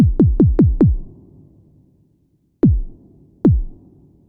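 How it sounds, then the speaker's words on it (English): Deep synthesized bass drum from a Behringer 2600 synthesizer, four rapid booming kicks with falling pitch, silence, then two separated hits, each punchy and short-decaying. "So the next sound is the big bass drum."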